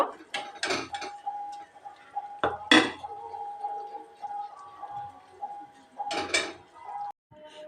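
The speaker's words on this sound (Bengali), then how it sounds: "এবার আমি একটা প্লেটে উঠিয়ে নেব" Fried kanmochra goja are lifted from the pan onto a plate with a few sharp metal clinks and scrapes. A steady faint tone runs underneath, and a voice speaks softly between the clatter.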